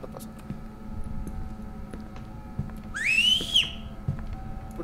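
A single rising whistle in the video game The Backrooms 1998, bright and clear, lasting about a second over a low steady background hum.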